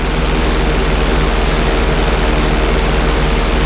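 Steady, loud airplane engine drone with a throbbing propeller-like texture, unbroken throughout an inside loop in the GTA 5 video game; no voices.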